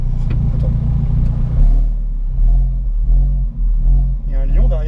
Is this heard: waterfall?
no